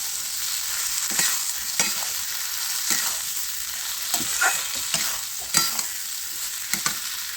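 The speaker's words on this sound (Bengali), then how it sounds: "ডিমের এই পকোড়াগুলো দিয়ে দেবো ভালো করে নাড়াচাড়া করে নেবো" Egg pakoras being stir-fried in a pan, a bright continuous sizzle with repeated scraping strokes of a spatula at a loose rhythm, close and clear with no talking.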